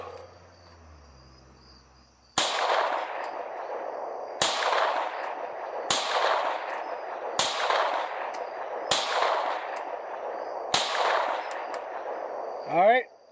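Six loud, sharp pistol shots ring out in an even, steady cadence from a PSA Dagger fitted with a Glock performance trigger, fired at a target at an outdoor range, with quiet pauses between each report.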